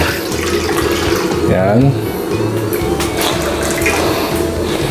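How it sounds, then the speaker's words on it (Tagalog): Water poured into a wok for boiling noodles, a continuous close splashing stream beneath a short spoken word. "Lagyan natin siya ng tubig."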